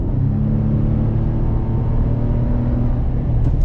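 Car with a JMS PedalMAX throttle controller accelerating on a throttle tip-in, heard from inside as a loud, steady engine drone and road rumble with a faint rise in pitch, no voices.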